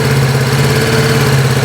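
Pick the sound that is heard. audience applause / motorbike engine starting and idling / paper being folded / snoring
motorbike engine starting and idling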